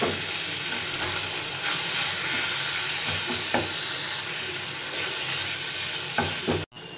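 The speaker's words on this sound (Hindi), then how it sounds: "साथ ही टमाटर भी ऐड कर देंगे, और टमाटरों को सही से भूनेंगे।" Chicken, tomatoes and spices fry in a pan with a steady, close sizzle and a few soft stirring scrapes, continuous throughout, ending in a brief sharp knock.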